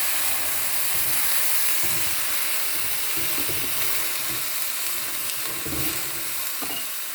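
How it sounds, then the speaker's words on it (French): A hot pan being deglazed while cooking chicken jambonnettes with morels hisses and sizzles loudly and steadily throughout, with scraping and stirring clatters breaking through at intervals. "Maintenant, je vais déglacer."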